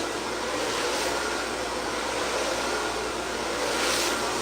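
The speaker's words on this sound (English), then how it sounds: "I literally just run my hands around the head with the blow dryer on warm" A blow dryer running steadily on a warm setting in a hair salon, a continuous even whooshing roar with no breaks, close and loud throughout, no voices.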